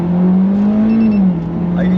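An automatic Mitsubishi Evo 10 with a turbo and paddle shifters accelerates hard, its engine a loud, steady drone that climbs in pitch, dips briefly as it shifts, then pulls again, heard from inside the car.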